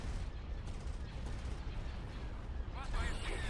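Continuous gunfire and explosions in Star Wars: Empire at War (Awakening of the Rebellion mod) space battle, a dense steady barrage throughout, loud and unbroken, with a brighter burst of sharp shots near the end.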